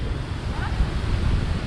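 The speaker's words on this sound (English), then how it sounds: "Oh, that is a waterfall" Eas Fors waterfall on Mull gives a steady, broad rushing roar mixed with gusty wind buffeting the microphone, continuous and fairly close.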